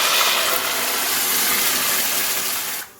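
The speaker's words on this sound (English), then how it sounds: "Add a little water to the can" Water running from a tap into an empty can of whole San Marzano tomatoes to rinse out the leftover sauce, a steady loud splashing gush that cuts off abruptly just before the end.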